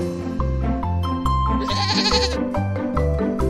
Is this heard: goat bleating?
yes